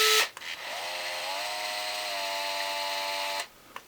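A power screwdriver drives a screw into plastic while installing an overdrive unit on a Capra UTB18 RC crawler, with a steady whirring hum that rises briefly at the start and runs about three seconds before cutting off.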